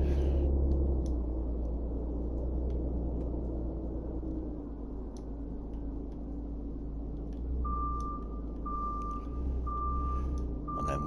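Reversing alarm of a truck backing up to attach a trailer in the Truck Driver video game, steady engine rumble underneath, then evenly spaced repeated beeps in the final few seconds.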